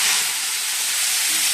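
Panch phoron and nigella seeds hit hot mustard oil in a kadai, giving off a bright, even, continuous sizzling hiss close by with no voices.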